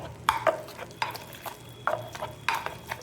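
Mashed chokha ingredients are mixed by hand or spoon with mustard oil in a bowl, giving soft, squelchy stirring strokes in irregular bursts, close and fairly quiet, with no talking.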